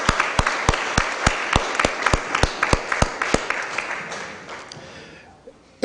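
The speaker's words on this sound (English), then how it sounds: "Let's give her one more big round of applause as she exits the chamber." Applause in a city council chamber, a few sharp, distinct hand claps in a regular rhythm up close over a softer crowd clapping that fades out toward the end.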